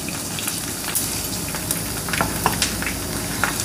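Mustard seeds crackle and spit in hot oil, tempering for a mango dal; a steady sizzle carries sharp scattered pops up close, with no voices.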